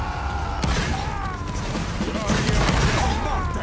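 Musket volley fire in a Roblox Napoleonic Wars battle, loud overlapping booming shots and rumbling echoes in a dense, continuous game soundscape, with faint voices mixed in.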